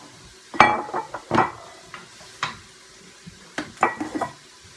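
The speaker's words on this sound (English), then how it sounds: "And now I'm going to add my cauliflower and let that cook down for about 5 more minutes." Cauliflower tipped into a cooking pot for a low-GI dish, heard as a few separate clattering knocks and scrapes of pieces and utensil against the pot, with quiet gaps between.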